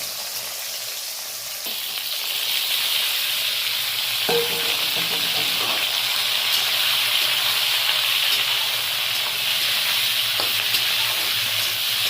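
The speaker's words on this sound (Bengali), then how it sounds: "মাছ ভাজা হয়ে গেছে, এবার কালো জিরে দিয়ে দিলাম।" Fish, black cumin and pre-fried vegetables sizzle and fry steadily in a pan for a Bengali sea-fish chorchori, a continuous close hiss with a few brief stirring clinks partway through and no talk.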